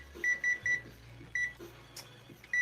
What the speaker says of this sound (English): I'm gonna put a timer on for these noodles.